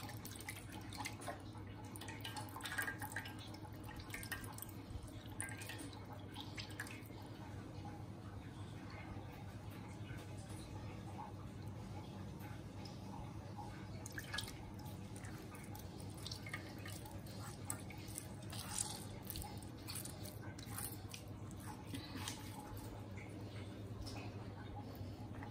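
Curd and whey for homemade mozzarella drip and trickle through a strainer, giving a steady run of soft drips and light splashes with a low hum underneath.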